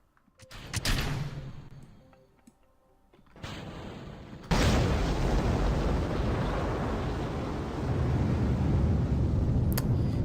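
Rocket second-stage engine ignition in Kerbal Space Program: a sudden loud onset of steady roaring rumble that continues unbroken, preceded by a brief burst and quieter rushing noise.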